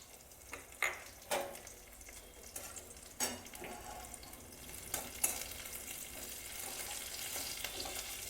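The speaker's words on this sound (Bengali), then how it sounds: "ফোড়ন দেব, কাঁচা লঙ্কা আর একটুখানি কালো জিরে" Green chilli and nigella seeds tempering in hot oil in a home kitchen, with sharp spluttering crackles and stirring clatters early on, settling into a continuous sizzle.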